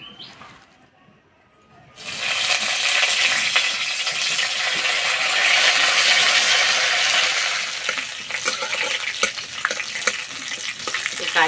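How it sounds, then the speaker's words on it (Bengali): Curry leaves hit hot mustard oil in a wok and burst into a loud, continuous sizzle and crackle after a quiet start, with popping spatters scattered throughout and no talking. "প্রথমে কারি পাতা ভেজে নেব।"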